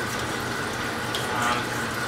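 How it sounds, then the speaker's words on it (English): Water splashes steadily around a brewing pot sitting in an ice bath, a continuous close rushing wash without pause. "there's a lot of water splashing around"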